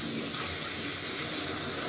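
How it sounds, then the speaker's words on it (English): Parts being rinsed under a running tap, a steady, close hiss of gushing water that stays even from start to finish. "Now, quick thing to do here, give it a rinse."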